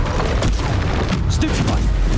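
A Bombarda spell explodes in Hogwarts Legacy with a deep, booming blast inside the castle, set within a dense, continuous wash of combat effects and magical noise.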